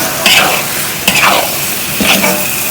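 Spice paste with kaffir lime leaves sautéing for a pork saksang with blood, a steady close sizzle broken by three scraping stirs of the spatula, with no talk.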